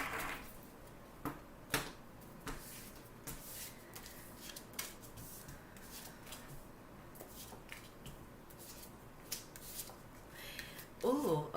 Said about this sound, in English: one more good shuffle after this